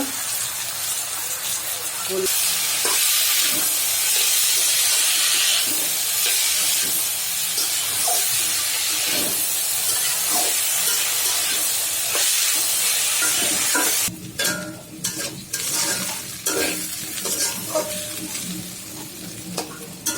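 Potatoes frying in a pan with onions, chillies and salt for aloo bhaji: a loud, dense sizzle under repeated stirring clinks and scrapes, turning choppier and more broken in the final seconds.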